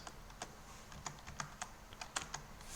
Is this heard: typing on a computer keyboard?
yes